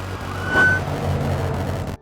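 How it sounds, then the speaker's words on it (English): Fire truck sirens sound in the distance with a brief swelling wail over steady low engine rumble before the sound cuts off abruptly at the end. "Seeing that the approaching vehicles are fire trucks instead of police cars, I instinctively tuck the gun away."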